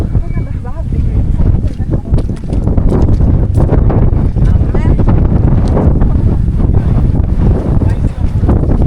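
Strong wind buffets the microphone outdoors near a lake ringed with trees, a loud continuous roar with gusty surges throughout, and voices talk underneath.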